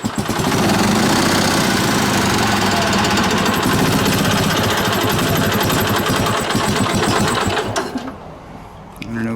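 An Onan engine on a DD11 unit runs rough and surging with the choke pulled, a loud, dense clattering drone that holds steady, then drops away near the end before starting to pick up again.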